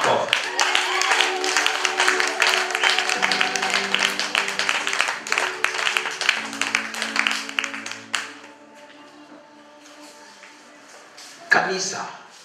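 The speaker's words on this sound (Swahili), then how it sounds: "Hebu tumpigie makofi." A church congregation claps and applauds together, loud dense clapping for about eight seconds that fades out, with a voice speaking over it and a brief sound near the end.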